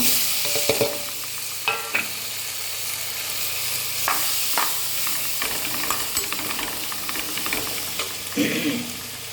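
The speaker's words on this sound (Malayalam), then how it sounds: "കുറച്ച് മുളക് പൊടി ചേർക്കുന്നുണ്ട് ഞാൻ സ്റ്റൗ ഓഫ് ചെയ്തിട്ടാണ് മുളക് പൊടി ചേർക്കുന്നത്" Chili powder being stirred into a sizzling fish curry pan on a stove just switched off, with steady frying hiss and repeated scraping stir strokes close by, no talking.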